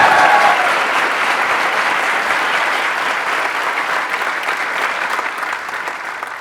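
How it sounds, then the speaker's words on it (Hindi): Sustained, dense clapping from a group of people, steady and loud throughout with little change, a couple of voices faintly under it. "आपके लिए अभी यहाँ पर सब लोगों ने बहुत बड़ी तालियां बजाई"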